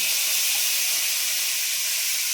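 Onions dropped into hot oil in a home kitchen for a Bengali crab curry, giving a steady, loud, close sizzle with a broad hiss that carries on without a break and has no talk over it.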